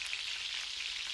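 Curry leaves hit hot oil in a pan for Kolhapuri misal, producing a steady, close frying hiss that stays even and unbroken for a brief moment.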